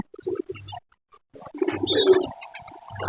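A young pigeon chick begging for food, giving short soft squeaky calls and coos in broken bursts with quiet gaps, close to the microphone.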